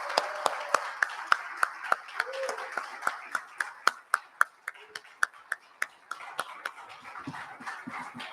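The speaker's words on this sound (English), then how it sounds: "Give them, please, a really large round of applause." Conference audience at a Bitcoin Cash event in Saint Kitts and Nevis claps in a sparse, rhythmic beat of distinct single claps, fairly close and moderately loud, with faint murmuring underneath.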